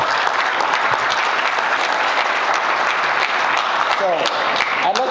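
Wedding guests applauding during a best man's speech, a dense, sustained round of clapping that holds steady throughout, with a few faint voices and whoops near the end.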